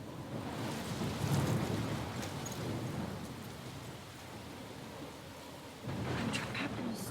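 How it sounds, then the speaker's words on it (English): A thunderstorm in the video game Life Is Strange, with steady heavy rain hissing over everything and low rumbling thunder swelling near the start and again toward the end. "I'm trapped in a storm?"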